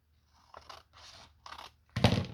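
Scissors cut paper for a junk journal insert, with four short close snips and crunches separated by brief pauses, the last the loudest, and no voices.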